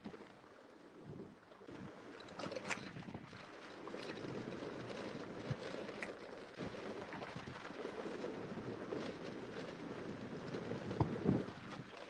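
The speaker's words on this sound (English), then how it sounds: "I'm sorry, it's a little bit windy" Steady wind gusts buffet the microphone at a lagoon-view resort in the Maldives for the whole stretch, a continuous low rumble with occasional brief knocks and rustles, no voices.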